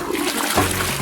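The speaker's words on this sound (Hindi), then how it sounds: "ये फ्लश क्यों नहीं हो रहा?" A toilet flush in a cartoon scene, a short gurgling rush of water that carries steadily through the whole moment without talk over it.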